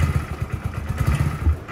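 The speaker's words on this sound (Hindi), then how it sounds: "फिर भी एक बार मैं आपको इसको एग्जॉस्ट नोट सुनाता हूँ।" A Hero Splendor Xtec motorcycle idles close by, its exhaust putting out a steady low, even thumping pulse for the whole short stretch.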